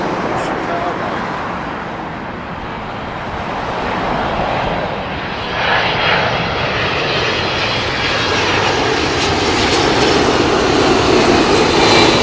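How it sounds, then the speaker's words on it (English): A United Airlines Boeing 767 jet arriving at Heathrow, its loud engine roar building and holding steady over nearby road traffic noise. "United Airlines, it's a 767, so we should hear that above the traffic."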